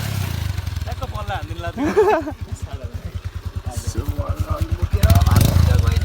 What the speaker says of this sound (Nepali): यो बाइक घुमाइरहेको छ